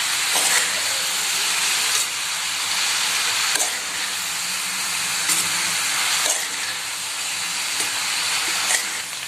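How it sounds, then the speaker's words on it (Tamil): Basmati rice being stirred into chicken fried rice in a hot pan, giving a loud, steady steamy hiss and sizzle with soft scraping strokes at roughly regular intervals throughout. "பாஸ்மதி ரைஸ் சேர்த்தாச்சு, நல்லா கலந்து விட்டுடலாம்"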